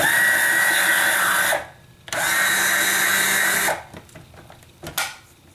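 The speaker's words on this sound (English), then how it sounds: "Press it down inside, close it, hold the lid, engage the motor." An E3 Matic electric cigarette rolling injector machine's motor whirs loudly and steadily for about a second and a half, stops, then runs again for about two seconds, followed by a few small mechanical clicks and knocks.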